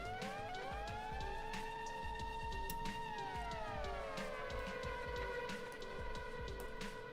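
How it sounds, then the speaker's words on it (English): A synthesized siren resembling an air raid warning wails with rising and falling sweeping tones over a busy rhythmic backing with sharp percussive hits, loud and continuous. "It's almost like an air raid siren, like you're about to get nuked, like in Silent Hill or something."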